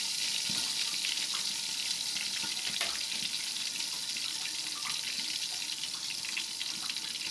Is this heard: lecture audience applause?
no